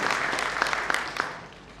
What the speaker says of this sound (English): A big round of applause for Sri Palak Pawagade.